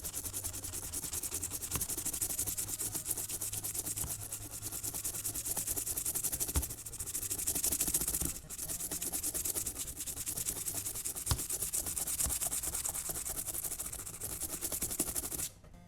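Corroded Game Boy cartridge contacts get a steady, close scrubbing with isopropyl alcohol, a continuous dry rubbing that runs unbroken for the whole stretch at a low, even level.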